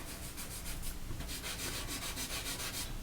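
Soft charcoal stick scrapes across paper in quick, repeated strokes while blocking in a portrait, a close, faint, dry rubbing rhythm with no voices.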